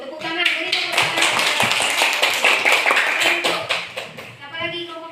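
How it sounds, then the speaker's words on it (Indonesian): Children in a classroom clap together in quick, uneven bursts while voices talk over the clapping. "Beri tepuk tangan"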